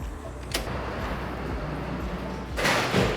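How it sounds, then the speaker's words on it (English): A heavy fire door in a building corridor is pushed open, with a sharp knock near the start and a louder thud and scrape near the end over steady background noise. "We're gonna put this door open."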